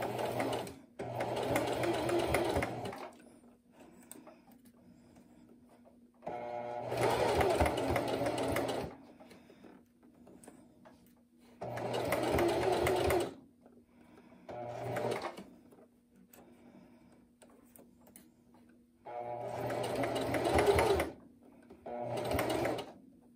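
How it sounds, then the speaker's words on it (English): A sewing machine stitches over a gathered fabric seam in four distinct runs of steady mechanical whirring, each a few seconds long, separated by quiet pauses as pins are removed. "begin sewing right over top of my gathered fabric, taking my pins out as I go"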